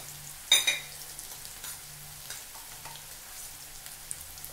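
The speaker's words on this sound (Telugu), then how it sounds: "ఆనియన్ వేయించుకుందాం ఇప్పుడు. ఇప్పుడు ఉల్లిపాయలు వేయండి కొద్దిగా." Sliced onions fry in a pan for chicken liver curry, a soft continuous sizzle with a sharp clatter near the start and faint stirring afterward, close and without talk.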